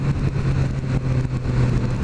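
A 2016 Suzuki GSX-S1000 motorcycle engine runs just above idle, a loud, close, steady low rumble with slight throttle pulses and a continuous droning tone, with no voices.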